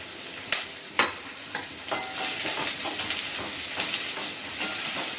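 Onions, curry leaves and green chillies sautéing in a pan for poori masala, a steady close sizzle with a few sharp spatula scrapes and clinks near the start, no talking.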